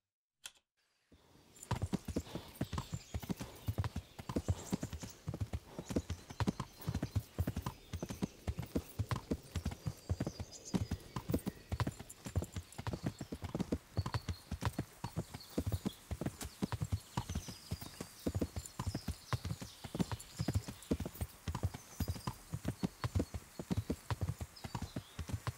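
Horse hooves clip-clop in a steady, quick rhythm for a long stretch in the video game Kingdom Come: Deliverance, with faint background sounds between the hoofbeats.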